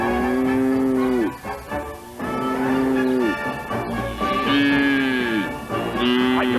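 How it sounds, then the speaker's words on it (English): Several long, loud cow moos, each drawn out and falling in pitch at the end, following one another with short pauses between. "there'll be no more mooing"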